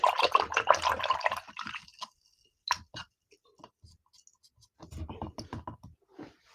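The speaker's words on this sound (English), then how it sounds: "Let me wash my brush." A paint brush is rinsed in a small container of water during wooden ornament painting, making close, soft clicks, taps and light splashes in uneven clusters with quiet gaps between them.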